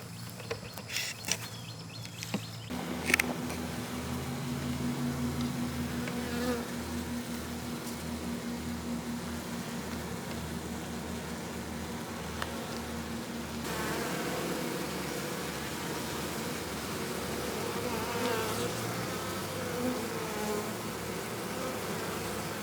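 Dense, steady buzzing of many bees close by, a continuous insect drone with faint birdsong in the background.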